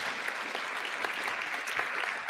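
Applause from an indoor crowd at a county fair coronation, a steady dense patter of many hands clapping at moderate distance, continuing evenly throughout.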